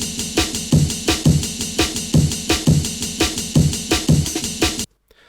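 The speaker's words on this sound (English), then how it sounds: "It just uses kick rides and snares" A rearranged drum break built only from kicks, ride cymbals and snares, looping in a steady, punchy groove with heavy low kicks and bright cymbal wash, loud and alone before cutting abruptly to silence.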